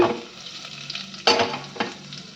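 Grated ginger and peppercorns frying in ghee, a broadband sizzle, steady and close, with a couple of sharp clatters from stirring and no voices.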